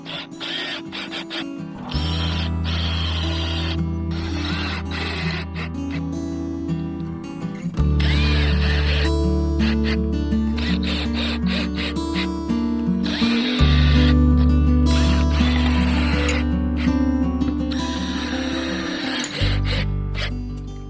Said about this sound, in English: To put on these Simpson anchors, we're going to use this strong drive SD connector screws.